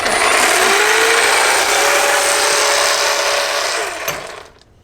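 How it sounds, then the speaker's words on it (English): Hedge trimmer cutting through vines in a vegetable garden, a loud continuous buzzing motor drone with cutting noise that runs steadily for about four seconds before winding down and stopping. "Should use a shorter hedge trimmer."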